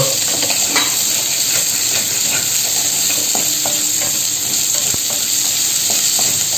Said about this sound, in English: This goes in, followed by the capsicum. Give it a good stir.